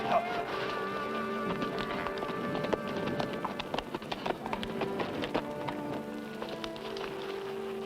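Horse hooves clip-clop in a steady run of hoof beats across a western ranch setting, close and continuous, with faint background noise.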